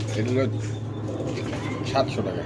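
Pigeons coo at a busy pigeon market in Meradia, Dhaka, a few soft calls rising amid a steady low hum and nearby chatter of traders talking.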